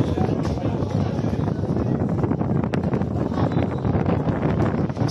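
Strong wind buffets the microphone at an amateur football match between Evliyafakı Spor and Yenice Gençlik Spor. It makes a loud, steady, rumbling roar with indistinct voices faintly underneath.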